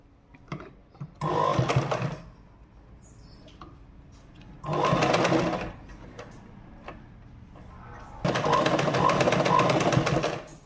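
Close up, a sewing machine runs in three distinct bursts while it stitches a folded jacket hem, each run lasting about one to two seconds. Quiet pauses with faint handling clicks fall between the runs.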